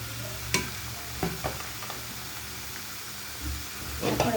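Ivy gourd pieces fry in a pan with a continuous sizzle, broken by several scraping stir strokes and clinks of a utensil, close and moderately loud throughout.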